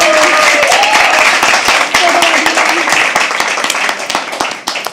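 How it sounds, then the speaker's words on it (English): Audience at a live poetry open mic at The Habitat applauding steadily with dense, continuous clapping that slowly thins toward the end, a voice faintly audible underneath. "one person needs to clap, and then all 40 of you are like, oh, I have to clap"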